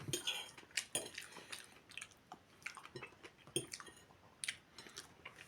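Soft, close chewing and biting of a shawarma from a new street kiosk, with wet squishy bites and occasional faint crunches coming in uneven bursts, quiet and with no talking.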